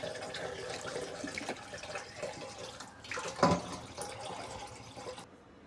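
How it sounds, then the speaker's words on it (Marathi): Salted raw mango pieces being washed in water for pickle, sloshing and splashing by hand with a louder pour or swirl midway, then quieting at the end. "याला आता 2-3 पाण्याने मी स्वच्छ धुवून घेते"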